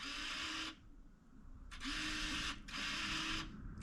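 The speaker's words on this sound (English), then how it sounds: "you can hear that actuator engaging or disengaging" A four-wheel-drive transfer case actuator on an NP261 in a 2007 Chevrolet Silverado whirs in bursts: a loud buzzing motor run, a pause, then two more runs with a brief dip between them, close by with no talk.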